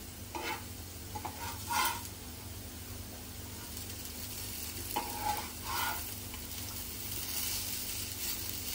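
Okra frying on a hot tawa sizzles steadily while it is flipped and stirred, with several short scraping bursts of a spatula against the pan over the constant fry.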